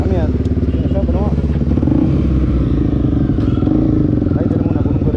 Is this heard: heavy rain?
no